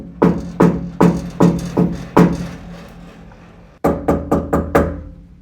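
Loud knocks on the big steel door of a 1972 Plymouth Barracuda 'Cuda with a resonant, drum-like ring: six spaced raps, a brief pause, then five quicker knocks, close and alone.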